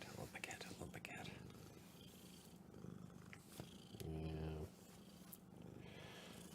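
Domestic cat purring close and quiet, a soft rhythmic rumble under faint whispered talk and rustling.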